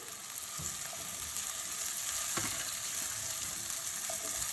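Raw banana pieces sizzle in hot oil with already-fried onions, a steady close frying hiss with a few soft clatters of the pieces landing and stirring.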